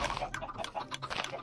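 Chickens in Minecraft cluck in quick, overlapping bursts, close and fairly busy throughout.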